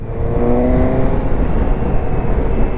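A Suzuki GSX-S 750 motorcycle in A2 form pulls hard in fourth gear around 65, its engine a loud, steady, close-up roar under open throttle with no talk.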